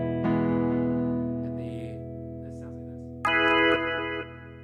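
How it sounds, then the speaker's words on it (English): Keyboard piano tone routed through a mixer, sustained chords ringing with reverb and a fresh louder chord struck near the end, no talk over it. "I make sure the piano sounds like this."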